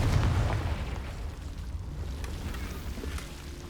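A Confringo spell goes off in the Hogwarts Legacy video game: a loud, rumbling explosive blast that starts at once and fades into a long, noisy roar.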